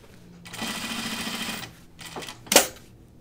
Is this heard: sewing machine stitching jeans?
yes